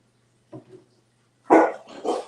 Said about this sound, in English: Sorry, guys, the dogs are going crazy.